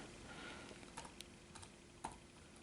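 Quiet typing on a computer keyboard produces a few sparse, soft clicks and taps over a faint background hiss, with one sharper keystroke near the end and no speech.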